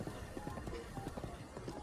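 Steady rhythmic hoofbeats of a horse trotting along a winding road in The Legend of Zelda: Breath of the Wild, a continuous moderate clip-clop over a soft ambient game backdrop with no voices.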